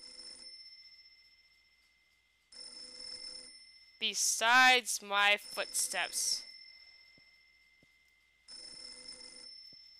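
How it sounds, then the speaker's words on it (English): An old telephone rings in the horror game Mermaid Swamp, a bright, bell-like trill that sounds at the start, returns briefly, then rings again at the end, with a person talking in the pause between rings. "Why did this phone ring?"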